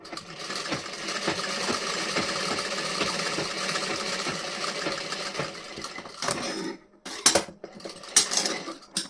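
A sewing machine stitches the front panel of a blouse, a fast continuous rattling whir running steadily at close range, then stopping and restarting in short bursts near the end, with no talking.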